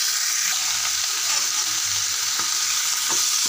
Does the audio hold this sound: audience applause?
no